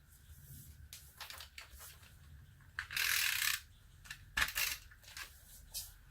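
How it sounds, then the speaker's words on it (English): A snail tape runner laying adhesive on a handmade Halloween card, giving a dry ratcheting tick-and-rasp in several short close bursts, with one longer sustained run and a sharp click between. "all that's left is to take our tape runner,"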